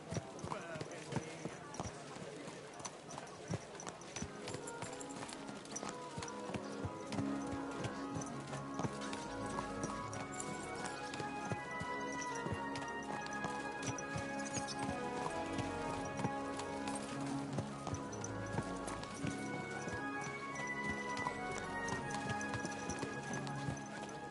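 Steady clip-clop of horse hooves at a quick rhythm throughout in the video game Kingdom Come: Deliverance 2, with music and occasional voices mixed in, plus a brief horse whinny.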